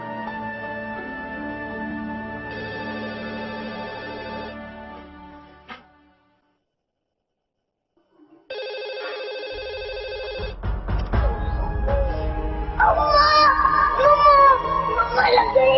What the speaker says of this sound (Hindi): फोन आ रहा है, कहीं मम्मा का ना हो।